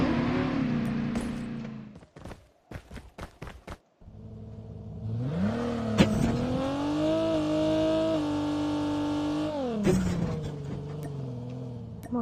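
A car engine in a video game drones and revs, its pitch rising and falling as it accelerates and shifts, with a brief break of clicks before the engine returns loud and sustained.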